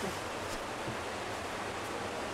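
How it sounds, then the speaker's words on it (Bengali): Waterfall water flowing beneath a hillside cave temple, heard as a constant dense rush of water with no breaks and no voices. "নিচের দিয়ে জল যাচ্ছে, ঝর্ণার জল"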